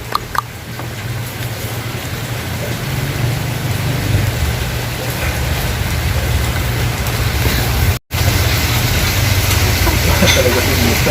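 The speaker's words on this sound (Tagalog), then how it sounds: "Nabutan kami ng ulan." Steady rain falling at a lookout over the Taal volcano in Tagaytay, a dense continuous hiss with a low rumble underneath, loud and unbroken apart from one brief cut.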